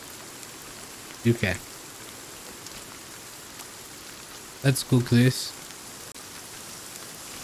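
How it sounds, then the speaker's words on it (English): Steady rain hisses across the scene in the Sons of the Forest video game, a constant wash of patter beneath short bursts of a man's speech. "I guess it's raining, you can push it."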